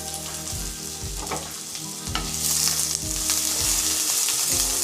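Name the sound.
onion and curry leaves sautéing in hot coconut oil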